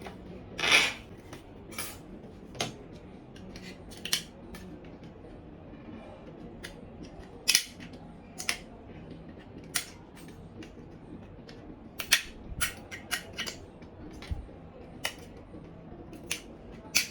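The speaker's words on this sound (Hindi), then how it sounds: "सबसे पहले इसको हमने काटना होता है एक्सटेंशन बोर्ड को" A plastic extension board is cut by hand in short, sharp snips and scrapes, spaced irregularly across a quiet room, close and fairly faint between the clicks.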